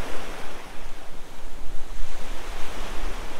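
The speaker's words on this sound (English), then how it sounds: "Not bad waves." Ocean waves at high tide wash onto a beach in Dumaguete, a loud continuous roar of surf with rolling swells and some wind buffeting the microphone.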